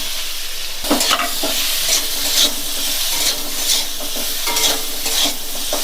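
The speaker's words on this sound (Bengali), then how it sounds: "আলুগুলো নাড়াচাড়া করে এর মধ্যে একটু লাল লাল মতন হয়ে ভাজা হয়ে যাবে" Potatoes stirred and frying in hot ghee with chilli powder, a steady close sizzle broken by repeated scraping stirs of a spoon in the pan, with no talk.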